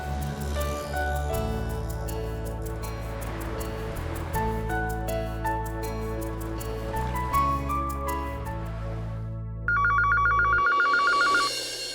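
A telephone being dialed and then ringing: a stretch of tonal electronic phone sounds, followed by a loud, rapidly trilling ring bell near the end, clear and close.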